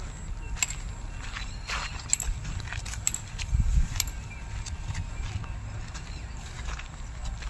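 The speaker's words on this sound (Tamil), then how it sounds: "மாடு வரது பாரு மாடு வரது பாரு" Slow hoof-like footsteps of a cow plod nearby on the ground, with faint background noise and occasional soft sounds.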